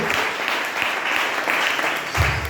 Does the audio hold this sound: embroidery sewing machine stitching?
no